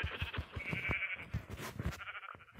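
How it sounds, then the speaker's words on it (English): Sheep in the Minecraft video game bleat in a few short, wavering cries that sit close and clear over light background clicks and footsteps. "There's white sheep wandering right over here and one here."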